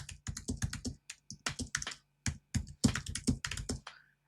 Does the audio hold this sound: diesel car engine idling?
no